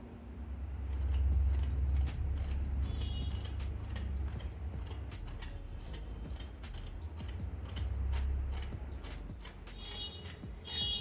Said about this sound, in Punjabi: ਸਭ ਤੋਂ ਪਹਿਲਾਂ ਆਪਾਂ ਟਿੰਡਿਆਂ ਨੂੰ ਛਿੱਲ ਲਵਾਂਗੇ